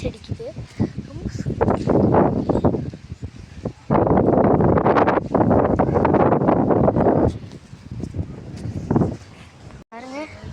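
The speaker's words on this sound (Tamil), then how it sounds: "இது சூப்பராக காற்றடிக்குது." Gusty wind buffets the microphone in loud rumbling bursts, rising and dropping over several seconds, with a person talking intermittently.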